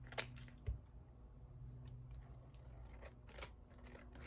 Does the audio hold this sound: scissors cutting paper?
yes